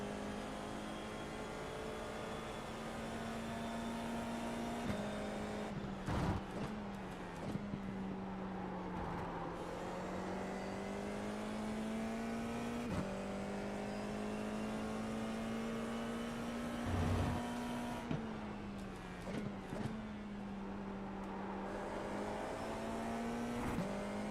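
A race car engine in the iRacing simulator drones steadily, then drops and climbs back through the revs several times as it brakes and accelerates through corners, loud and close with no talking.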